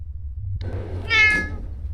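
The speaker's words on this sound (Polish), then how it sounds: "Przestań miauczeć do mikrofonu." A cat meows loudly and close into a microphone, one drawn-out, rising-and-falling cry over a low steady hum, with no talking.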